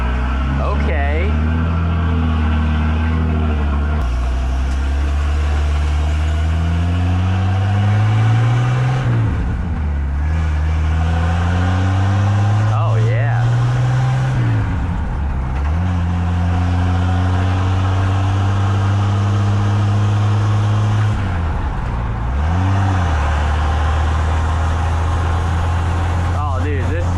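A Ford F100 truck fitted with a new 5-speed gearbox drives on a test run, its engine rising in pitch through each gear and dropping at every shift, loud and close, with people talking over it.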